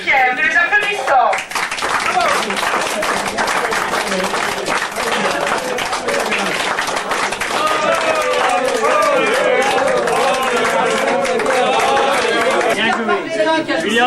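A crowd applauds young tennis players at a club event, with dense, continuous clapping that starts after a brief spoken lead-in and holds loud for over ten seconds, with chatter underneath.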